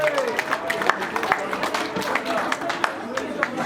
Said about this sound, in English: So can we give him a big round of applause?